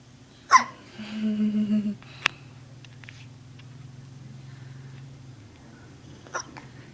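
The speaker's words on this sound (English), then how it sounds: "You got the hiccups." A baby hiccups, with one sharp hiccup near the start and another faint pair near the end, while an adult's soft voice hums and speaks close by in between.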